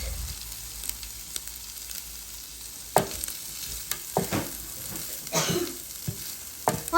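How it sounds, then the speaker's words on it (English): Prawns stir-frying in hot oil with garlic: a low sizzle under sparse, sharp clinks and scrapes of a utensil against the pan, growing busier toward the end. "we will add in our prawns and we will stir that around until it's cooked"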